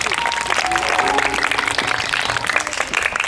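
Children clap together in a steady, dense patter that runs through the whole moment, close and lively, with faint voices mixed in.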